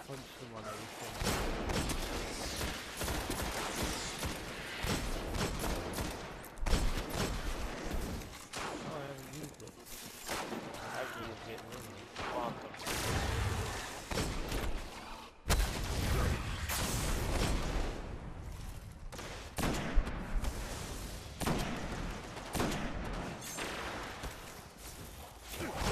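Rifle fire from the Destiny video game rings out in dense, repeated sharp bursts amid constant loud combat noise, whooshes and mechanical clatter, with people talking over it throughout.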